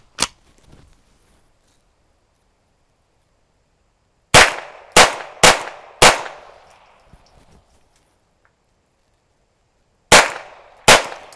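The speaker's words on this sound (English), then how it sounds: "So we're going to shoot it first." Seven sharp, loud cracks from a Ruger 22 Charger pistol fitted with a brace and red dot: a lone shot, then a quick group of four, then two more after a pause, each decaying fast into quiet.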